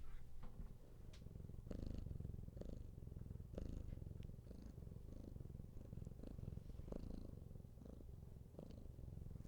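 A male cat purring close up, a steady rumbling motor of a sound with a soft rhythmic pulse that carries on unbroken and alone, fairly quiet.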